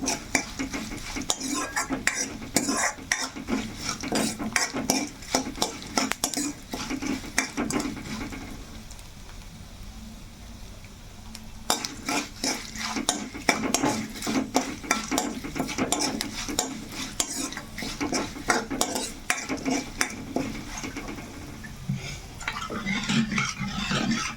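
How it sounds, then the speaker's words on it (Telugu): Tempering of curry leaves and spices frying in a pan while a spoon stirs and scrapes, producing repeated metallic clinks and knocks over a steady sizzle, with a quieter stretch in the middle before the stirring resumes. "ఇవన్నీ చక్కగా తాలింపు అయితే మనకి వేగిపోయింది కదా"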